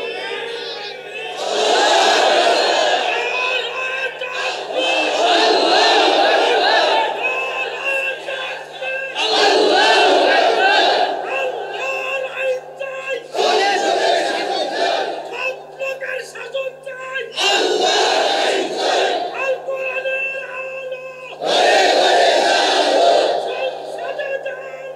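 A large crowd at an Islamic religious sermon chants slogans in loud, repeated bursts of several seconds each, separated by brief pauses, with the call-and-response rhythm of a rally.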